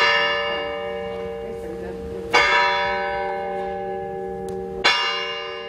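Ancient bells in a church tower in Vicopisano toll with two distinct strikes a couple of seconds apart, each leaving a long, bright ringing decay that hangs in the air at moderate distance.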